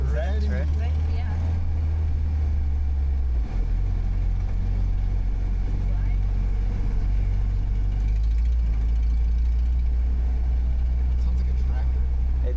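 An '87 Nissan D21 truck engine with a bad exhaust leak runs in a steady low, throbbing rumble that shifts pitch a couple of times, with people talking over it.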